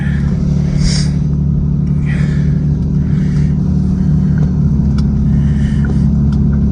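A 1998 Lexus GS300 cruises with a steady loud low engine and road rumble heard from inside the cabin, a continuous drone with faint higher whooshes passing over it.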